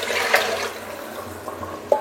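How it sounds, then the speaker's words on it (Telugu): Water splashes into a cooking pot while rice is being prepared, making a brief gushing pour with a few small splashes and then a second short splash at the end, fairly close. "ఈ పాత్రతో 2 పాత్రల నీళ్ళు అయితే పోసుకుందాం"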